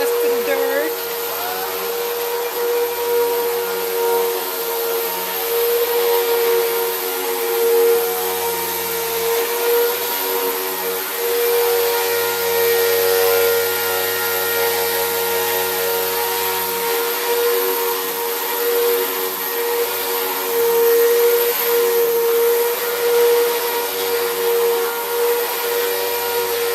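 A vacuum cleaner run through its hose drones steadily and loudly for the whole stretch while cleaning dust and dirt from a bedroom, a constant motor whine with small shifts as the hose moves.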